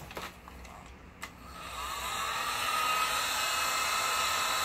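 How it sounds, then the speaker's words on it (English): A heat gun shrinks a rubber grip onto a racquetball racquet handle. A few faint clicks come first, then a steady, close blowing hiss swells up and holds to the end. "So basically you just put it over the racquet and take your heat gun."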